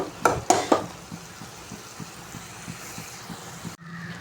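Tomatoes sizzle steadily in a pan with soft rhythmic scraping and mashing strokes, a few louder clatters of a spoon against the pan near the start.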